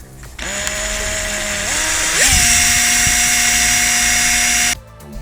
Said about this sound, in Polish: Sposób z wiertarką nie najgorszy,